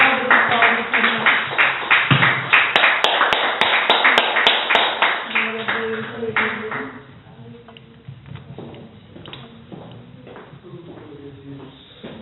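A church congregation claps together during a worship service, loud and dense for about seven seconds before thinning into softer, scattered claps beneath a voice.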